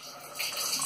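A cold water tap with poor pressure lets out a faint, thin hissing trickle that swells slightly partway through, quiet and close.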